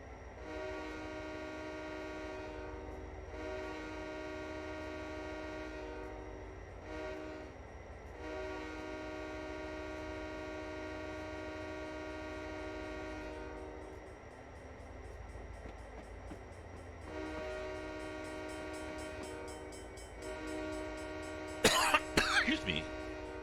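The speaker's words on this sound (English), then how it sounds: "I'm a little early on the whistle there." Train horn in Train Simulator 2020 on the Peace River route, sounding as a steady harmonic blast that runs through most of the stretch with brief breaks, up close and loud, followed by a throat clearing near the end.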